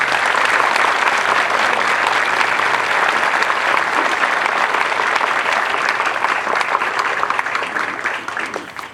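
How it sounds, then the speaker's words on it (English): Dense, sustained applause from a large crowd for Governor Abbott at an Air Force Basic Military Training parade of the 37th Training Wing, loud and steady for several seconds before tapering slightly at the end. "Please, folks, join me in another round of applause for Governor Abbott."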